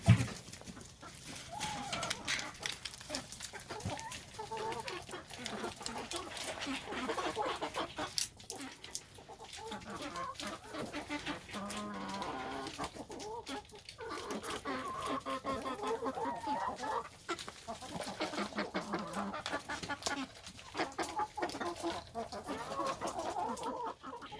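Rhode Island Red hens cluck and squawk close by outdoors, a busy continuous chorus of overlapping calls with scattered louder bursts throughout.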